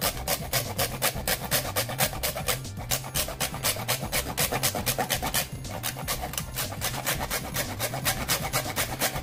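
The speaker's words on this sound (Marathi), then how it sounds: "आता सुंठ किसते." Dry ginger (sunth) is grated by hand in quick, regular rasping strokes, close and fairly loud, keeping a steady back-and-forth rhythm with a short pause midway.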